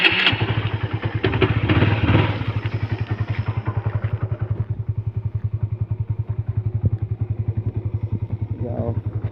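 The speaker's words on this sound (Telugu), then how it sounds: "ఒకసారి దీని ఎగ్జాస్ట్ నోట్ అయితే విందాము." A Honda CBR motorcycle engine runs close by with a loud, throbbing exhaust note, revving briefly at the start and then settling into a steady, pulsing idle.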